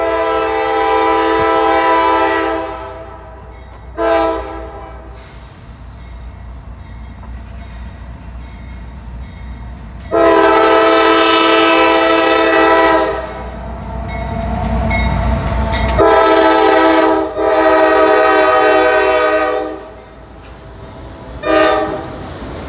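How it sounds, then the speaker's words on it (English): A CSX freight train passes near Hamilton, Ohio, sounding its horn in repeated long and short blasts over a steady rumble of rolling cars. "And here comes a train."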